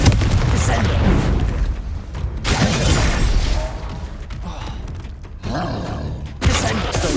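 Spell blasts from Confringo and Descendo in Hogwarts Legacy, loud booming impacts and thuds recurring through a busy game scene, with a voice talking over them.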